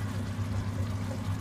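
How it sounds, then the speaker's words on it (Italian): Lukewarm water is poured into a pan of pasta cooking with clams and potatoes, a steady, close gurgling pour over a low, dense simmering rumble. "ancora serve un po' di acqua, aggiungetela tiepida, si assorbe molto"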